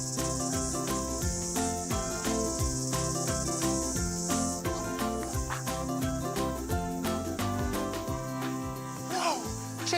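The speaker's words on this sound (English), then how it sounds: "Can you hear that? Those are cicadas." Cicadas drone in a steady high-pitched buzz that continues without a break, heard beneath loud, busy music that dominates the sound. No one speaks.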